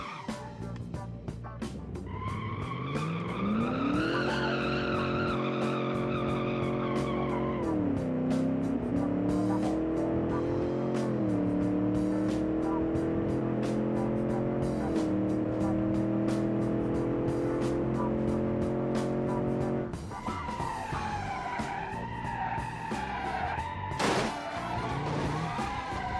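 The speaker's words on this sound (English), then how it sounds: "We can defeat that car by ramming it." Engine of a custom car, the Picard Pirahna, built in the game Automation, revving and shifting pitch continuously with tire squeals and skids while ramming another car in vehicle combat, loud and sustained throughout.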